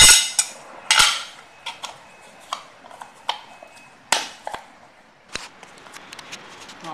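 Metal plate for a worklight housing being bent along its edges, a series of sharp clanks and taps at irregular intervals, close and loud, with quieter rattles between.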